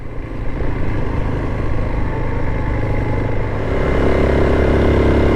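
A rented mini adventure motorcycle rumbles along roads in Costa Rica, its engine droning loudly and steadily close up, rising slightly in revs toward the end.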